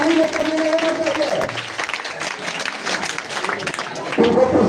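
Audience applause at an award ceremony for a coaching centre's test results, a sustained patter of clapping from a crowd heard beneath someone speaking over a microphone.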